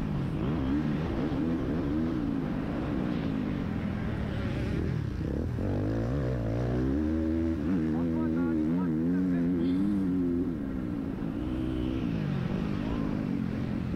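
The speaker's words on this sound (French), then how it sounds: "La moto a l'air de très bien marcher." Racing motorcycles roar through a beach sand race, with engines droning and rising in pitch as they rev past, heard continuously at middle distance under commentators' talk.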